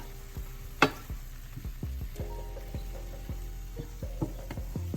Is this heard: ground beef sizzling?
yes